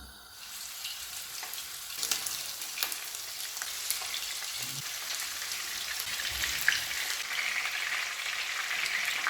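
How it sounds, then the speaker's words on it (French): Salted fish browning in hot oil in a home kitchen, a steady close crackling sizzle with dense spitting pops running unbroken throughout, with no voices. "Donc, je vais d'abord dorer les poissons."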